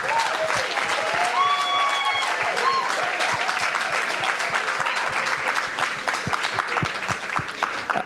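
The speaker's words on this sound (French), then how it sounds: "We keep applauding until Elias gets here, everybody." Audience applause at an evening storytelling festival, sustained dense clapping from a large crowd that holds steady throughout, loud and continuous with a few faint voices and whistles mixed in.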